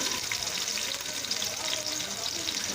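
Onions sizzle and crackle steadily in a pan while cooking for a gwar (cluster bean) dish, a close, continuous frying hiss throughout.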